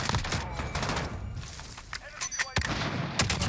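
Sniper rifle gunfire in Call of Duty Warzone, several sharp cracks and bursts of shots scattered across a few seconds amid other game noise, with excited voices talking over it.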